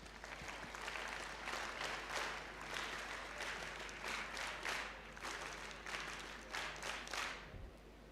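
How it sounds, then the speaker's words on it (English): At a school valedictory ceremony in Bangalore, an audience applauds the teachers with sustained, fairly distant clapping from many hands, swelling and fading slightly before tapering off. "please give a big round of applause to our beloved teachers"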